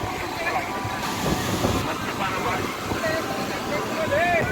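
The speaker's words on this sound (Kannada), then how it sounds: "2 ಅಲೆ ಬಂದು ಹಾಗೆ ಹೋಯ್ತು" Sea waves wash in at Malpe beach, Udupi, as a continuous surf and wind roar over the microphone, with people talking and calling out over the water.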